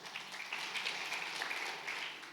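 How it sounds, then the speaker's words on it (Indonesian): Applause from a church congregation during a sermon, a steady wash of clapping held at a moderate, somewhat distant level for the whole stretch, without any talk. "Ayo dong, tepuk tangan yang keras."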